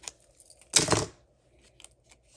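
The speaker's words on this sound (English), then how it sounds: "Where are my scissors? We cut some of these in half." Scissors snip through cardstock while a fruit-themed box card is assembled, giving one loud, close cut after a few light clicks and taps, then quieter handling sounds.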